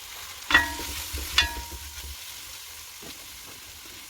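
Onions fried with added spices in a pan, heard as two sharp metallic clanks of a spoon against the pan followed by a faint, low sizzle and a few soft scrapes, close and quiet.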